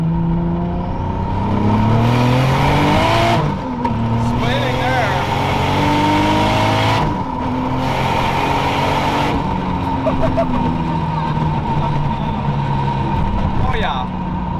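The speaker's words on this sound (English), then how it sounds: "We're gonna do like a second gear roll on here, see what we can have happen." A 600hp turbocharged Toyota Supra pulls hard in a second gear roll, its engine note climbing steadily and loud from inside the car, with gear changes and turbo whoosh breaking the rise, and people talking over it.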